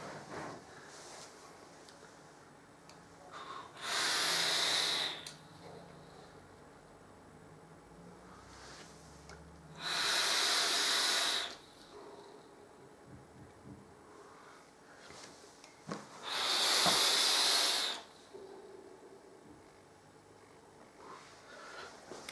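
Three long vaping inhales, each a few seconds of airy hiss with a faint crackle, drawn through a Mutation X V4S rebuildable dripping atomizer with its airflow fully open, separated by quiet pauses; no talk.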